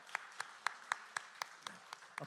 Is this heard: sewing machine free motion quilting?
no